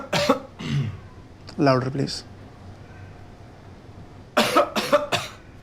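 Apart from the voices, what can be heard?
coughing on request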